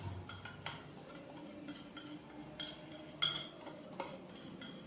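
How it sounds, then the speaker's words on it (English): Egg mixture being mixed into an apple cake batter with red wine, light rhythmic clinks and taps of a utensil against a bowl, fairly quiet and close. "So I'm adding the egg mixture to this, and I'll mix the whole thing."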